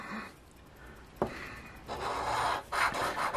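A coin scratching a lottery scratch-off ticket, close rasping strokes that start faint and grow into louder scraping bursts near the end, with no talking.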